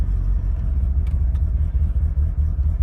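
Cold car engine with a stock ECU running speed density, idling with a steady, loud low rumble and a faint click or two, no voices.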